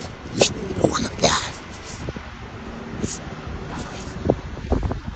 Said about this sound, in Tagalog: Ngayon, medyo malakas ang hangin.